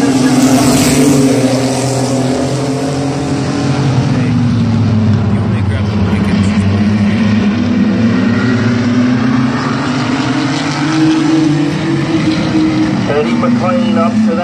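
Mini trucks roar around a speedway oval during a feature race, their engines droning loudly and continuously under an announcer's commentary.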